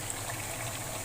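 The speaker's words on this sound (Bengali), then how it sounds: "এখন আমি পানি দিয়ে দিব।" Water poured into a pot of browned beef makes a short, steady rush that blends with a low bubbling simmer. The sound is close and continuous, with no voices.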